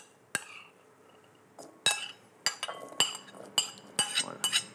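Coconut beans being mixed for a salad in a bowl, with a run of sharp clinks of a utensil against the dish, sparse at first and then quicker and more regular.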